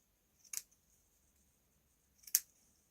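Scissors snip through lace while making shabby chic fabric flowers, two short crisp cuts about two seconds apart, close and clear against a quiet background.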